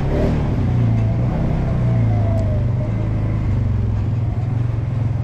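Four-wheeler ATV engine running while plowing snow, a loud, close, steady low rumble with slight shifts in revs throughout.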